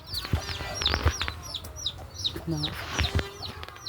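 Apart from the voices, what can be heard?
chicken clucking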